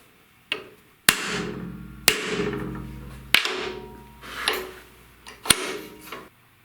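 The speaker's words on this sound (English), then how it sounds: "And now with your hammer, give it a shot or two." Hammer striking a crimping tool to crimp a battery lug: several sharp metallic blows spaced about a second apart, each ringing briefly, close and fairly loud.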